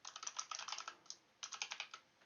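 An action name being typed on a computer keyboard in Adobe Illustrator: two quick bursts of crisp, close keystrokes separated by a short pause, with no voices.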